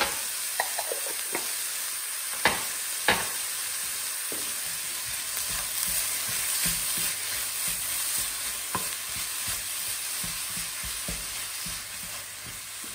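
Vegetables cook over high heat in a pan, giving a steady close sizzle broken by the scrape and clatter of stirring now and then.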